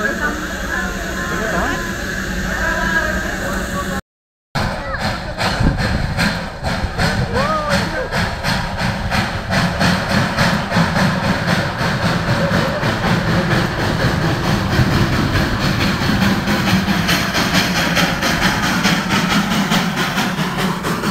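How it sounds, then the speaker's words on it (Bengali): The coal-fired steam engine of the Darjeeling toy train gives a continuous heavy rumble with a rhythmic chuffing texture, loud and near, broken once by a brief gap, while voices murmur faintly underneath. "কয়লা চালিত ইঞ্জিন"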